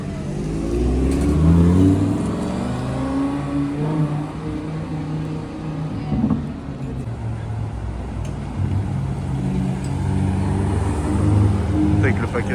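A Ferrari sports car with the Assetto Fiorano package accelerating on a Monaco street, its engine note rising and revving loudly and close, with people talking over it throughout.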